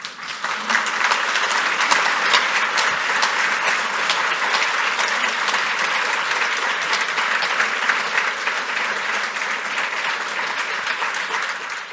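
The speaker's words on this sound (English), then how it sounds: "Stop applauding." Sustained, loud audience applause fills a lecture hall at the close of a talk on parents of trans-identified kids, dense steady clapping running the full length with no pauses.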